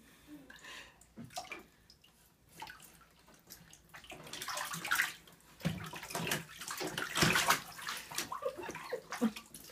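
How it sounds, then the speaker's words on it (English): A two-month-old baby splashes bath water, sloshing with irregular bursts of splashing growing livelier and louder toward the end; no talking. "Splashing on the water around."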